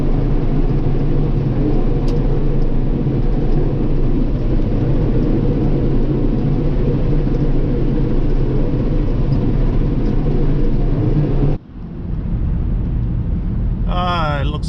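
A John Deere tractor engine running in snowy farm conditions, a loud steady low rumble heard from inside the cab that cuts off abruptly to a quieter hum, with a voice briefly at the end.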